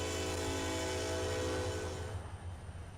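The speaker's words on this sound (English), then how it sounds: "Got a couple of Dash 9s hauling a train of the hopper cars." Freight train of coal-loaded hopper cars hauled by a pair of Dash 9 locomotives in Trainz Simulator 2 on the Horseshoe Curve, a sustained loud horn blast over engine rumble that cuts off, leaving rolling train noise.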